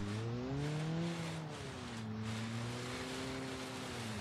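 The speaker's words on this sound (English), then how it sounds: "The Miramar gets out of the sand trap." In BeamNG.drive, a Miramar car strains its engine to climb out of a sand trap. A loud, steady drone wavers in pitch, laboring throughout with no talk.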